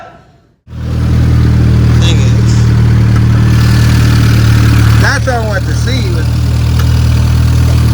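A 2006-2011 Honda Civic's R18 engine with a built short block cranks and catches after a brief silence, then settles into a loud, steady idle rumble while someone talks over it.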